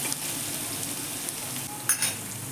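Garlic paste and asafoetida hiss steadily in hot oil with popped mustard seeds, a close, continuous sizzle broken by a brief stirring scrape, with no talking.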